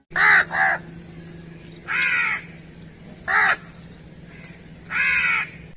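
A crow caws in several loud, harsh calls: a quick double caw, then single caws spaced a second or more apart, close by over a low steady background hum.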